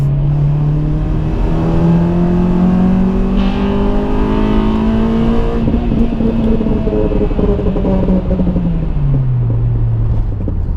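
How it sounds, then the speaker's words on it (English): Honda Civic EP3 Type R fitted with an M2 exhaust, heard from inside while driving: steady loud engine drone and induction noise rising in pitch under acceleration, then dropping, with a faint rattle from the exhaust against the underbody tunnel. "That rattling is the exhaust rattling on the tunnel underneath."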